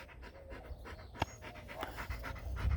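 Half Staffy, half Rottweiler dog panting close to the microphone in quick, rhythmic breaths, with one sharp click partway through.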